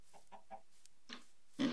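A few soft clucks from a chicken in Minecraft, close by, ending in a louder squawk.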